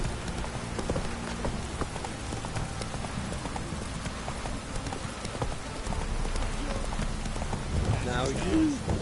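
Roach the horse gallops in The Witcher 3, rhythmic hoofbeats running under steady rain with a voice speaking over it, fairly close and sustained.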